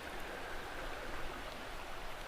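Water of Dismal Creek on the Appalachian Trail flows steadily near Dismal Falls, a dense, even rushing wash close by with no voices over it.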